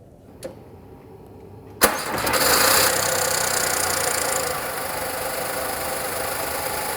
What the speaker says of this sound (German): Nun starten wir das Auto, damit sich unser Öl im Filter und im Motor verteilt